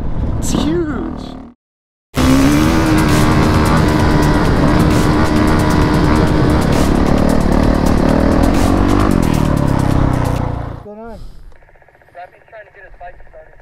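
A Honda 450 RX dirt bike ridden offroad at Johnson Valley: after a brief pause, a loud, sustained engine roar close to the mic holds steady for about nine seconds, then cuts off and gives way to fainter sound.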